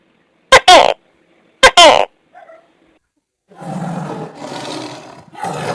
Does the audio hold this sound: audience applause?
no